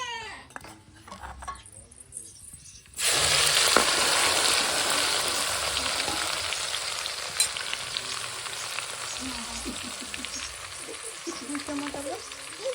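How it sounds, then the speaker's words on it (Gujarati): Garlic, ginger and chili paste drops into hot oil in a pan for a cashew paneer curry, setting off a sudden loud, steady sizzle that holds strong after a quiet start, with faint stirring clinks near the end. "એમાં જો લસણ આદુ મરચાં પેસ્ટ નાખી દઈએ."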